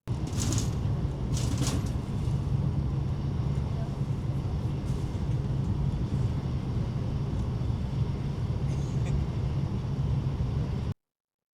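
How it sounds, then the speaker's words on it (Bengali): A steady low rumble and rushing hum from inside a carriage of the Haramain high-speed train, running at about 300 km/h between Medina and Mecca, with a few brief rattles near the start. "আমাদের ট্রেন চলছে"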